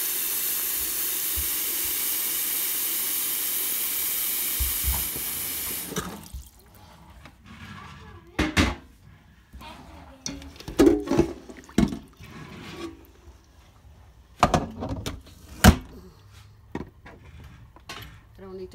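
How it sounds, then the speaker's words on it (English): A pressure cooker cooking beans for Belizean rice and beans hisses loudly with steady steam for several seconds, then cuts off, leaving scattered clanks, knocks and handling sounds in a quiet kitchen. "I'm going to pressure cook the beans."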